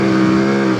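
A CFMOTO Ibex 450 motorcycle engine gives a short, loud rev on a gravel track, a buzzing, harmonic-rich engine note held steady for under a second, close to the listener.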